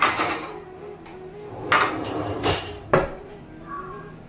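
Coffee cups are taken out of a kitchen cupboard, with a few close, bright clinks and knocks of crockery spread over several seconds.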